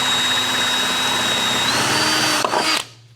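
A power drill whines at a steady high pitch while drilling out a part during a Jeep JL build, running continuously before stopping abruptly near the end.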